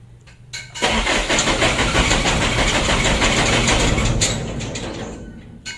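The 125 PS diesel engine of a Mitsubishi Canter truck cranks and catches, then runs with a loud, rough, steady rumble close by that eases slightly near the end.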